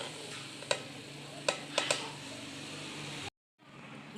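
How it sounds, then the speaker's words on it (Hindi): Minced meat frying in a pan with onion, garlic, ginger, salt, red chilli and turmeric, a faint steady sizzle broken by a few sharp clinks and scrapes of stirring, then briefly cutting out. "अब हम इसके अंदर कीमा डालेंगे।"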